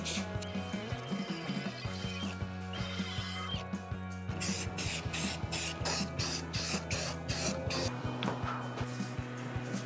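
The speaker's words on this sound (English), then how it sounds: "the grille and hood cowl, which are then coated with a protective paint to prevent future corrosion." Protective paint sprayed onto the grille and hood cowl of a V8 Chevrolet C10 pickup during a rebuild, a steady hissing spray under a droning mechanical background, broken by a series of short rhythmic bursts in the second half.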